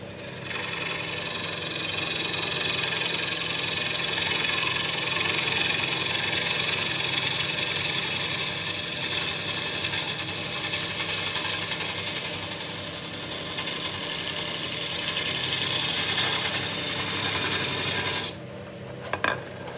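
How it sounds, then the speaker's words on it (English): Bowl gouge with a 40/40 grind taking a push cut on a bowl blank spinning on a wood lathe: a steady, continuous rasping scrape over the lathe's hum, running unbroken for most of the clip before cutting off near the end. "I put the back of the gouge on the wood, just making sure it's round"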